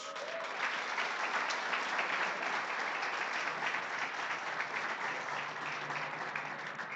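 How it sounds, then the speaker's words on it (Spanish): Sustained applause from a church congregation, even and steady throughout with no voices over it. "Dele un aplauso a Jesús."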